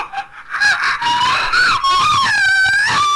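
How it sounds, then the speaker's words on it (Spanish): A woman screams loudly and at length in the video game Candle, a shrill wavering cry that rises and falls over several seconds with no speech. "Ella grita como si estuviera teniendo un..."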